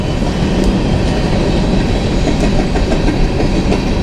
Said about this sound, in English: Yeah, there's a train.